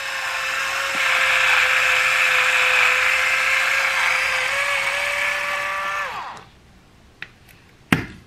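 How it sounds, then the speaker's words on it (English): A wine cork is worked out of a bottle with a steady mechanical whirring for about six seconds, like an electric opener, followed by two sharp clicks or pops. "And then I will literally just pop the cork out."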